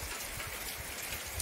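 Heavy monsoon rain falls as a dense, steady hiss of constant moderate loudness, with no voices over it.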